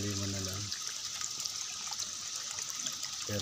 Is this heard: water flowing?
yes